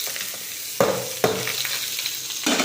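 Hot tempering with curry leaves tipped into a pan for sundakkai thuvaiyal, bursting into a loud close sizzle in two sharp waves around the first second, settling into steady frying crackle, then flaring again near the end.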